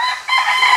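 A gamecock crows loud and close, a single sustained crow running through the whole moment with no other sounds.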